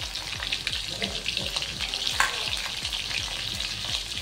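Green chilies frying in hot oil with crackling cumin and mustard seeds, a steady close sizzle with rhythmic scraping strokes of stirring throughout.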